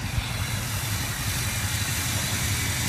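A 2004 GMC long bed pickup idles steadily, its low, even exhaust rumble heard close and moderately quiet, with no one speaking.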